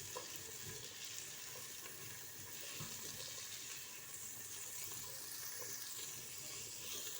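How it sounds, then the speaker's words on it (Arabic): Onion softening in oil and butter in a pan, a steady close sizzle and crackle running continuously without pause, with faint stirring and no talk. "ونقلو بيان البصل ديالنا مع الزيت والزبده حتى يدبل شويه"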